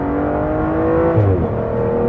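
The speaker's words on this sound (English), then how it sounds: "It shifts crisply and sharply, especially in sport mode and track mode." A 2013 Aston Martin with a 6-speed gearbox revs steadily from inside the cabin, the engine note rising and then dipping briefly as a gear shifts, loud and continuous throughout.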